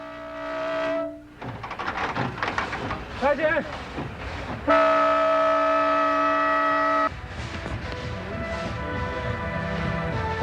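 A train of the Happiness Railway pulls out in the Tian Shan Mountains, a loud sustained horn blast standing out over rumbling rail noise and clatter, with a voice briefly heard nearby.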